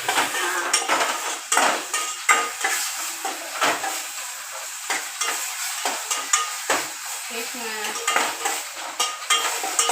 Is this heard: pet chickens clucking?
no